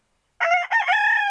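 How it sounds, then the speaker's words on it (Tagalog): A fighting rooster kept among farm chickens crows once, loud and close, a drawn-out call that starts abruptly after a moment of silence. "Puro manok kung nandito."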